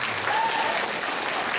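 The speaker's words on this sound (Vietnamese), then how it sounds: "một tràng pháo tay" Full, steady applause from an audience at a school closing ceremony, a dense continuous wash of clapping with a faint murmur of voices beneath.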